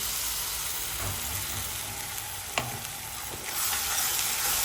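Masala paste dropped into oil with browned onions frying in a home kitchen pan, a steady broadband sizzle with a sharp burst partway through and stirring scrapes, close and fairly loud with no talk.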